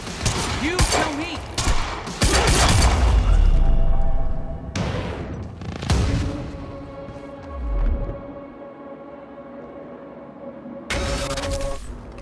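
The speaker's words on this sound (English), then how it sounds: "Why the hell is Monarch firing at us?" Monarch soldiers open fire in the Quantum Break action game, with dense bursts of automatic gunfire and booming impacts, loud and close, broken by short lulls while a low electronic hum lingers between volleys.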